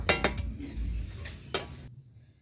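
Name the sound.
pots being moved on the stove, another wok set down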